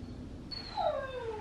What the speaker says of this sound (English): My dog's whining at the back door.